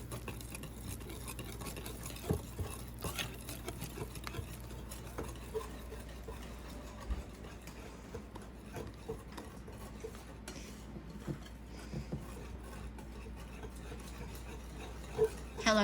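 Chocolate cake mix batter being stirred by hand in a bowl, a long run of soft scraping and irregular spoon clinks against the side, fairly quiet and close.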